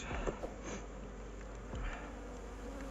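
Dense, continuous buzzing of many honeybees close by at a hive, a steady droning hum with no pauses.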